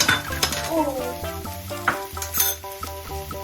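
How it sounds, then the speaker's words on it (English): Kimchi, meat and rice stir-fried together in a pan, with steady sizzling and repeated scraping and clinking of a utensil against the pan, close and fairly loud. "The kimchi and the meat is all fried, so I'll also put the rice in."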